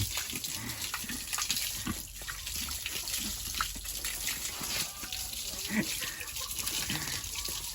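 Running water splashes steadily while a pygmy pig is given its first bath, a continuous close gush with intermittent sloshes and faint voices in the background.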